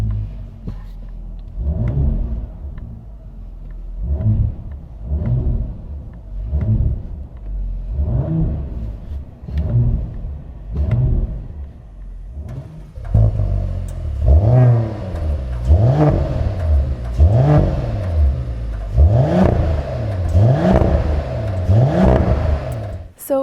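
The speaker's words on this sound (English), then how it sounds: "listen to the sound of this Mercedes GLE 2025, as the sound of this car is also custom made" Repeated revving from a 2025 Mercedes GLE53 AMG fitted with a custom exhaust, loud and close, with a steady series of rising blips that grow stronger and denser toward the end.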